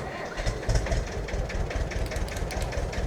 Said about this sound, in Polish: No, traktor dosyć ładnie zapalił. Jak na te warunki dziś zimowe